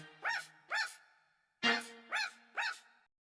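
A dog barks five times in sharp, clear yelps, two close together, a pause, then three more, loud and alone with no other sound.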